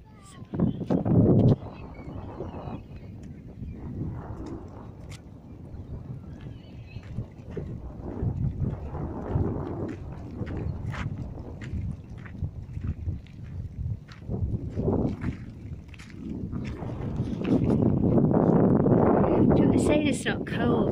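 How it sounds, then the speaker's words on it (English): Gusty wind buffets the microphone along a coastal marina walk in Crosby near Liverpool, with rumbling bursts rising and falling over several seconds, strongest at the start and end, while a person talks through it. "Gosh, it's windy."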